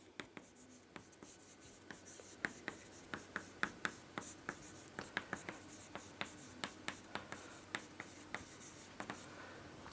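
Chalk or marker strokes on a board during an accounting lesson on share capital, dozens of quick ticks and scratches in uneven bursts, close and fairly faint, with a quiet room behind.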